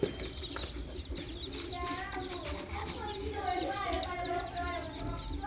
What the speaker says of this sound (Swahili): Hao vifaranga unaoona hapo wako zaidi ya 250.